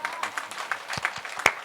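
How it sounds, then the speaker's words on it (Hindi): Audience at a Hindi-Urdu kavi sammelan poetry recital in Hata, Damoh, giving a brief, sparse round of clapping, with scattered individual claps growing slightly stronger toward the end. "ताली बजाइए।"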